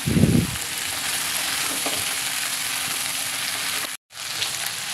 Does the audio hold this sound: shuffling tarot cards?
no